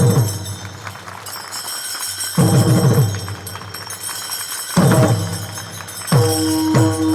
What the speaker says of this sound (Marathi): टाळ, टाळी, मृदंग बजाव.